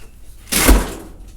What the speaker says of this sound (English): So I'm just gonna shut the door.